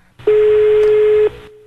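A single steady telephone tone, most likely a dial tone as a call is placed, holds loud and unbroken for about a second, then cuts off and leaves a faint trailing hum.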